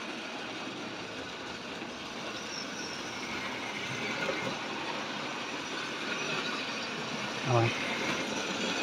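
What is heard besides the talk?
Tri-ang model railway train running with wagons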